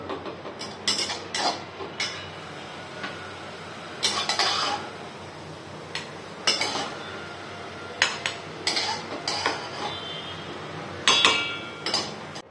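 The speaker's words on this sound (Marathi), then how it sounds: "आता हे मी मिक्सरच्या भांड्यात काढून घेते" Roasted coconut scooped from a pan into a mixer jar, with sharp metallic clinks and taps of utensils in irregular bursts over a low background hum.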